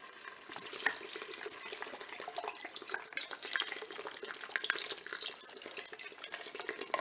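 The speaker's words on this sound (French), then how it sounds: "Je vais verser la bière." Beer poured into a Cookeo multicooker pot for carbonade flamande, a steady liquid splashing and fizzing stream running for several seconds, close and fairly quiet with no talk.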